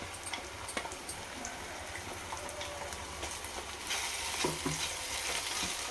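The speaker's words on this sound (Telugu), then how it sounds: "బాగా యాగనిద్దాం. పచ్చివాసన పోయేదాకా యాగనిద్దాం." Ground poppy seed paste is stir-fried in a pan: a soft, crackling sizzle with sharp spatula scrapes and taps early on, then a louder, busier hiss of frying.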